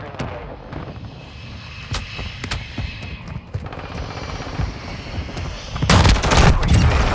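Gunfire in Call of Duty: Modern Warfare II, scattered sharp shots at first, then heavier bursts and a loud volley at the end, over a rumbling aircraft-like background.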